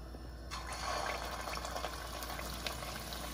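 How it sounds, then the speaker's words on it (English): Meatballs go into hot oil in a pan and set off a soft, steady sizzle and bubbling that rises abruptly and continues, fairly quiet and close. "this is the sound you're going to want to hear when you put your meatballs in"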